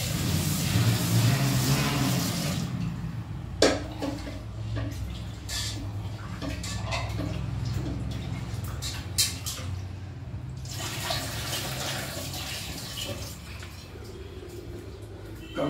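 Basmati rice being washed by hand in water, with steady sloshing and swishing of grains and liquid, occasional louder splashes and drips, close and continuous with no talking.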